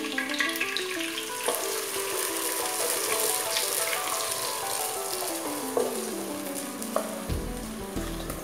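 Egg halwa mixture poured into a hot, deep pan gives a soft, continuous sizzle and bubbling, close but fairly quiet, with a few small clinks and a brief change in tone near the end.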